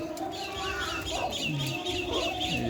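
Native village chickens kept in a cage cluck and murmur softly while feeding, a few short calls rising over a low steady background, with a brief faint voice.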